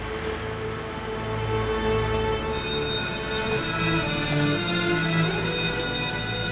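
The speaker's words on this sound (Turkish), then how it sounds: "Öğretmenler zil de çaldı." A loud, sustained electric school bell rings continuously, a steady high metallic buzz filling the space without pause.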